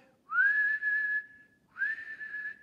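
A person whistles two sustained, steady tones, imitating a train whistle for a toy train engine; the first lasts over a second, then a short pause before the second, clear and close with no talking.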